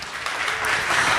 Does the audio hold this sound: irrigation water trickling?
no